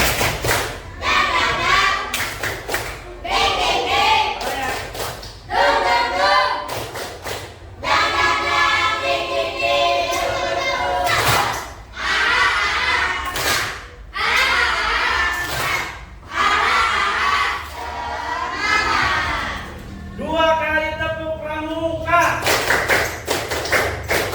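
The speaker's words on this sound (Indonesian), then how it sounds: "Coba tepuk semangat." A class of schoolchildren in an Indonesian classroom perform a rhythmic clapping chant together, loud unison voices alternating with sharp group claps in repeated bursts separated by brief pauses over about twenty seconds.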